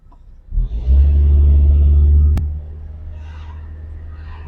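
Cars move through a street near a party, heard from a Nissan N15: one loud, low engine rumble swells, holds for under two seconds, then fades into a steady background hum, with a sharp click partway through.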